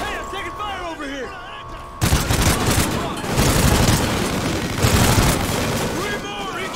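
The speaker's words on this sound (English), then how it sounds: "I'm taking fire over here!" Call of Duty: Ghosts combat: a sudden, loud burst of rapid automatic gunfire and booming shots erupts and keeps going, with voices shouting over the barrage.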